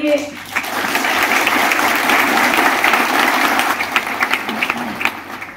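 An audience at a Nashik lifestyle program bursts into sustained applause, dense rapid clapping that swells, holds steady, then thins into scattered claps toward the end.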